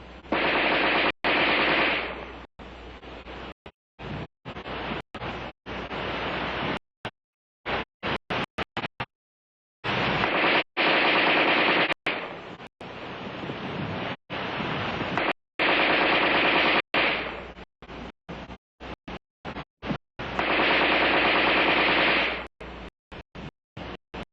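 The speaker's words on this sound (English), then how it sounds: "The preceding demonstration of rapid fire illustrated the use of preloaded magazines." Armalite AR-10 rifle firing rapid automatic bursts from preloaded magazines, loud and close, in several long strings of rapid shots separated by short pauses and isolated single cracks, with no talking.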